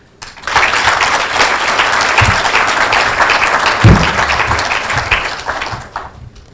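Audience applause at a youth leadership decision day event, rising quickly into a loud, sustained wash of clapping with a few heavier thumps, then fading out near the end.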